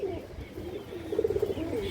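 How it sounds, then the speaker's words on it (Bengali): An old khaki breeder female pigeon coos softly in a short wavering run of low notes, faint and close, with no other voices. "আমার বাসার পুরনো খাকি একটা ব্রিডার মাদি কবুতর"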